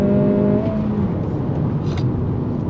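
A 2023 Acura Integra sport compact engine revving toward its 6,500 rpm redline, a loud rising tone that drops off with a shift, then continues as a steady droning pull from inside the car.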